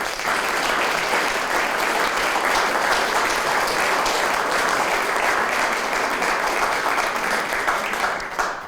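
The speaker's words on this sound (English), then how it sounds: "why don't we give Bob a nice round of applause." A live audience applauds steadily at an evening museum talk, a dense, even wash of clapping that holds at full strength for several seconds with no voices over it.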